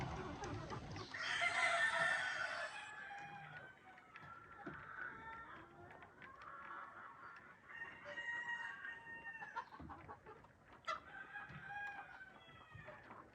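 Several White Leghorn chickens cluck and squawk close by, with a rooster-like crow early on and busy scratching and flapping noises throughout.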